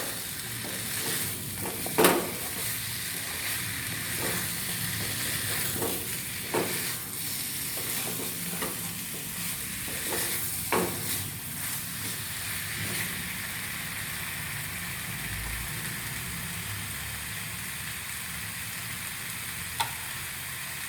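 Chicken and fried onion sizzle and fry together in a pan for a chicken and potato curry, a steady close hiss with occasional sharp crackles and stirring scrapes, no talking.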